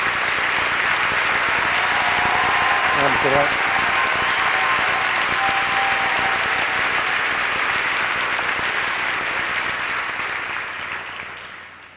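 Large audience applause at the ARTIS awards gala, a dense, steady wash of clapping from a big crowd that holds for several seconds and then fades out, with a brief voice speaking over it.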